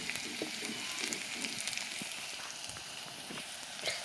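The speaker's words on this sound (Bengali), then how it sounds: "পেঁয়াজটাকে লাল লাল হালকা লাল করে নেব।" Chopped onions fry in a pan with seven or eight very hot green chillies for a potato and chickpea curry, giving a steady, dense sizzle that runs evenly throughout with no talking.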